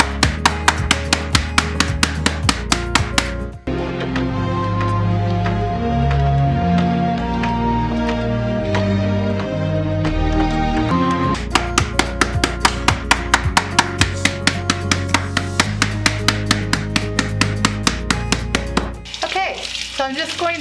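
A steak is pounded flat in an RV kitchen, the steady, evenly spaced thuds coming in two long runs over background music, with a pause between them.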